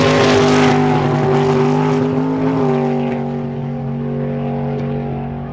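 Drag race car at a local drag racing event pulling hard at full throttle, a loud engine roar with strong falling-pitch harmonics that fades as the car runs away into the distance.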